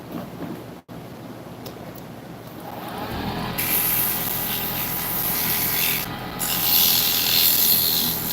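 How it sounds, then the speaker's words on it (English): Sandpaper rubs against a wooden piece turning on a lathe, a continuous hissy rasp over the motor hum that grows louder after a few seconds and swells again toward the end, with no talking. "I'm going to hit this heifer with some sandpaper real quick."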